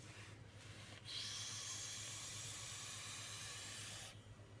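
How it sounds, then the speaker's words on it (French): A Royal Hunter vape by Council of Vapor gives one close puff: a steady, breathy hiss swells in and holds for about three seconds before cutting off, with no voices over it. "Voilà, un volume de vapeur assez impressionnant."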